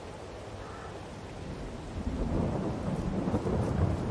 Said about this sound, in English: It's not only raining, it's thunderstorming.